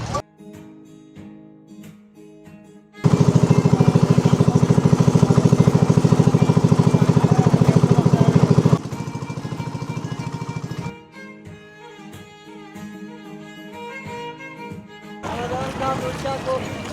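A motor boat engine on Tanguar Haor wetland, a loud steady droning roar that kicks in abruptly partway through and cuts back after several seconds, with music and lighter sounds around it.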